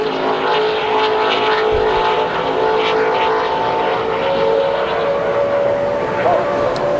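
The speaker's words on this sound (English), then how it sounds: "here's the 56 car on the racetrack" A NASCAR Nationwide race car runs a qualifying lap, its engine roaring loud and continuous as it passes, with faint voices in the background.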